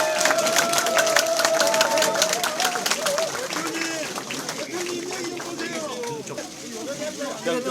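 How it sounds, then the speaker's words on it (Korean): Supporters at an outdoor election campaign rally clap in a dense, continuous patter, with crowd chatter and cheering voices rising and falling through it. "우리 지지자 여러분들 뜨거운 박수 한번 부탁드리겠습니다"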